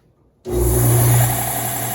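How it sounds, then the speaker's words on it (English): A vertical belt sander whirs up at close range while shaping small ukulele back braces to a curve, starting abruptly after a brief quiet moment and holding a steady, loud motor hum with abrasive hiss. "we're going to use the vertical belt sander for these others"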